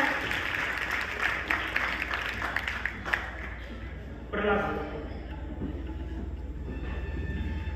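An audience at a school alumni meet claps loudly in a dense, steady wash to welcome a guest, with a voice speaking faintly over the applause.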